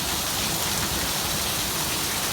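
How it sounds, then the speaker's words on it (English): Heavy rain pours down in a Mojave Desert summer storm during a flash flood, a dense, steady roar of water drumming on surfaces, loud and continuous with no voices. "This is what I call a flash flood."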